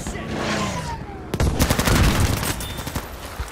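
Rapid gunfire in a video game with a tank nearby, a sharp blast followed by a dense stream of automatic shots close up, loud over rumbling game noise, no talking.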